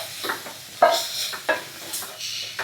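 A spoon stirs vatha kuzhambu in oil in a pan, making several scraping, clinking strokes at an uneven pace, close up with a light sizzle underneath.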